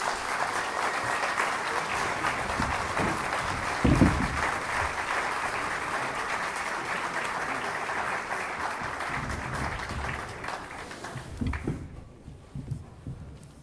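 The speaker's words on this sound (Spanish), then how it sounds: "Un aplauso," Sustained audience applause for a speaker at a university human rights memorial event in Escobar, Argentina, a dense, even roar of clapping that thins out and stops near the end, with a voice speaking over it.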